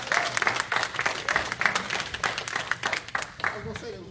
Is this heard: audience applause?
yes